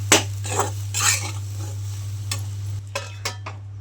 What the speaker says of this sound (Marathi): ह्याला हलवून घेते